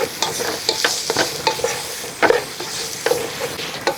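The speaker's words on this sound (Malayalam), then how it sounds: "ക്യാരറ്റ് കൂടെ നമുക്ക് ഇതിൻ്റെ അകത്തോട്ട് ഇട്ട് കൊടുക്കാം എന്നിട്ട് ഇതൊന്ന് ഇളക്കി കൊടുക്കുക" Chopped carrots being stirred in a frying pan for Kerala-style carrot rice, with steady sizzling and repeated scraping, clattering stirs of a spoon against the pan, close and alone.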